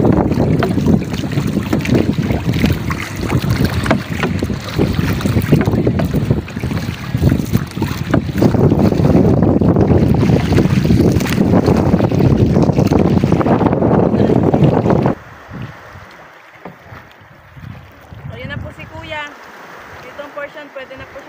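Small boat riding a choppy, wavy sea, with strong wind buffeting the microphone and water rushing loudly for about fifteen seconds before dropping to a quieter splashing hull.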